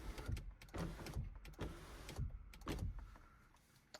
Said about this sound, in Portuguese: Vou abrir o teto para vocês conseguirem enxergar melhor ainda.